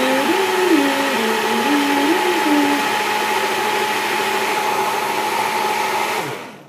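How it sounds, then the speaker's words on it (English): A countertop blender whirs steadily as it blends a vegan Shakeology shake, a loud, continuous motor drone lasting about six seconds before winding down and stopping; a voice hums a short tune over the first few seconds. "So I'm going to blend for about 45 seconds"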